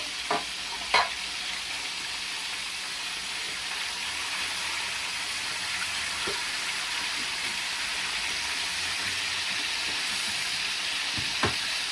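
Schnitzel fries in a pan of hot oil, a steady close sizzle and crackle that runs unbroken, with a few faint clinks of utensils.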